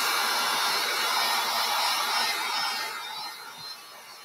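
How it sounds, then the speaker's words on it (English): Hair dryer blowing steadily while drying freshly applied Fusion milk paint, a close, continuous airy roar that eases slightly in volume toward the end, with no voices. "And I'm going to just blow dry a bit."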